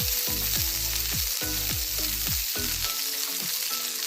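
Banana and Baguio beans fry in hot oil for pork pochero, a loud, dense sizzle with repeated bubbling bursts and pan rattles as the pieces are moved.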